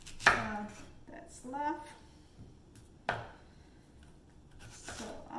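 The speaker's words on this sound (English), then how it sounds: "So I'm just going to slice it up into cube here" A knife cuts taro into cubes on a board, giving a few sharp, separate chopping knocks with pauses between them, while a person speaks softly.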